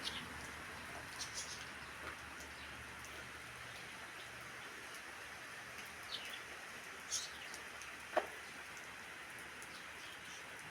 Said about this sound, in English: Definitely raining out.